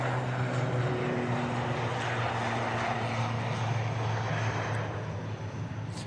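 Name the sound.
Emerald Air aircraft beginning its takeoff roll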